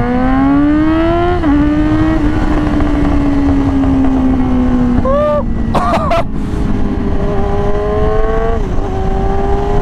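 Yamaha R6 sport motorcycle fitted with a loud aftermarket exhaust, revving hard with a rising and falling engine note and sharp crackles near the middle, very close and loud throughout.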